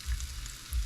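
Fish fillets, whitening, frying in hot oil, a steady low crackling sizzle that swells at the start and again near the end of the short stretch, fairly close.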